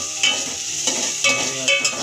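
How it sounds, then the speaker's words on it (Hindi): Green peas and onion fry together in a pan, a bright steady sizzle punctuated by several distinct scraping stirs of a spatula, close and fairly loud. "मटर प्याज को थोड़ी देर भूनना है,"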